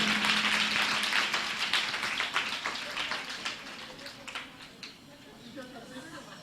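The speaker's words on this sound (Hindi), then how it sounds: "तालियां बजाओ इनके लिए।" An audience at a Jain religious discourse in a hall breaks into dense applause that starts loud and gradually thins into scattered claps, fading away by the end.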